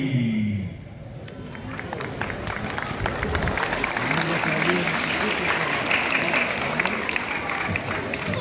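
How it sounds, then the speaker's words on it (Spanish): An audience applauds a dance group at a festival performance, a dense, sustained wash of clapping that swells and holds steady, with crowd noise mixed in. "Queremos un fortísimo aplauso para este prestigioso grupo de danza"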